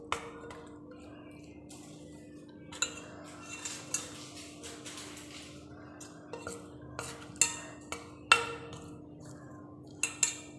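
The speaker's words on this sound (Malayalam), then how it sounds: "ഇതേപോലെ സാവധാനം അത് മിക്സ് ചെയ്തെടുക്കാം" Chicken is slowly mixed with masala by hand in a bowl, with scattered soft clinks and scrapes of a utensil against the dish over a quiet background hum and no speech.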